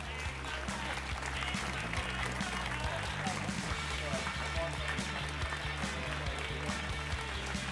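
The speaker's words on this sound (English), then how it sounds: "I think you can keep that applause going for a little longer" Steady applause from an audience at a Match Cup sailing prize ceremony, where teams receive medals and flowers, a dense continuous patter of clapping with voices faintly underneath.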